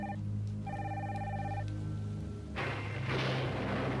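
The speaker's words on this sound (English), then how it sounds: "Phones ringing." Several phones ring in repeated bursts inside an abandoned house in The Sims, clear and fairly close, then fade as a dense, loud rush of storm noise takes over for the last stretch.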